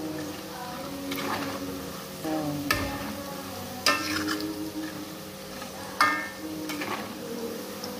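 Potato pieces frying in moderately hot oil for sambal goreng kentang, a steady soft sizzle broken by a few sharp spatula clanks against the pan.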